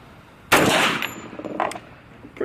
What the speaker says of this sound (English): So first we have an unsuppressed 45